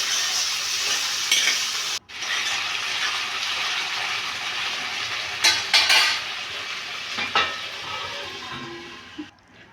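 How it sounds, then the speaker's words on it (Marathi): Chopped potatoes and chillies stirred and cooking in a pan for sabudana khichdi, a steady close sizzle broken by a brief pause near two seconds and a few scraping stirs later on, with no talking. "बटाटे हलक्या हाताने मिसळून झाकण ठेवून मऊ होईपर्यंत शिजवून घ्यायचे."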